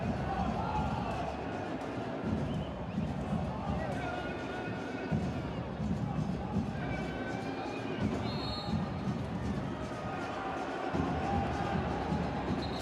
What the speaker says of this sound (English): look, the crowd is angry